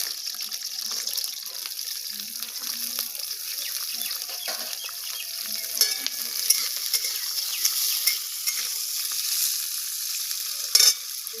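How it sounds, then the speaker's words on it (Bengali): Chopped onions fry in hot oil for a Bengali soybean and pointed gourd recipe, giving a steady bright sizzle with scattered scrapes and clinks as they are stirred, close up and continuous with no talking. "পেঁয়াজ কেটে নিয়েছি, হালকা করে নেড়ে নেব গরম করাতে।"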